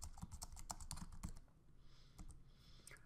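Quick bursts of keystrokes on a computer keyboard as a note is typed in HeavyBid estimating software, a dense rattle for about a second and a half, then a pause and a few scattered taps, close and fairly quiet.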